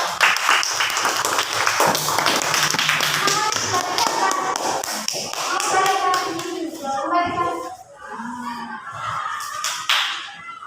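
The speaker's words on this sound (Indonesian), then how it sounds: "mari kita kasih tepuk tangan untuk kelompok Garuda" A classroom of children claps for group Garuda, a burst of rapid patterned clapping at close range, followed by children's voices and chatter as the clapping fades.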